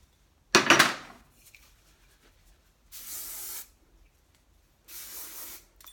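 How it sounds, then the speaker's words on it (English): Three bursts of hairspray misted onto hair: a sharp, loud first spray followed by two softer, longer hissing sprays, separated by quiet pauses. "hairspray my hair"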